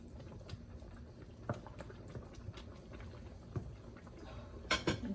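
Okra soup with fish simmers in a pot while a spoon gently stirs it, soft bubbling and patter underneath with a few light clinks of the spoon against the pot, quiet and close, no talking.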